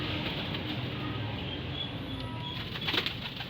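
Pigeons flap their wings amid a steady rustling background, with a brief louder burst of flapping near the end; no clear cooing stands out.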